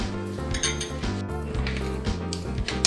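Utensil clinking and scraping against a bowl as almond flour, a pinch of salt and baking powder are mixed, a quick continuous run of close, bright knocks with no talking.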